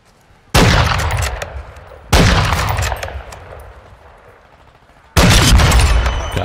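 Three loud gunshots from a third-person shooter video game ring out one by one, each a sharp blast trailing into a long echoing decay, with uneven gaps between them.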